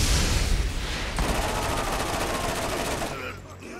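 Automatic gunfire in the Borderlands shooter game, a steady loud rattle of rapid shots lasting most of the moment before tapering off, with a voice talking over it.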